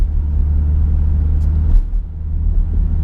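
A Jeep Grand Cherokee SRT with a failing water pump driving along, a steady low engine and road rumble heard from inside, with a brief faint rattle midway.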